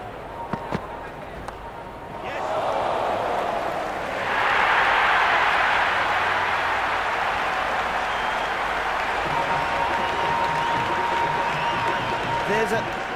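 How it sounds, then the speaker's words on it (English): Stadium crowd at an RCB versus KKR cricket match in Cricket 26 on PS5, a steady broad roar that swells loudly a few seconds in and holds, with a commentator talking over it. "There's an almost tangible fervour throughout the crowd at the moment."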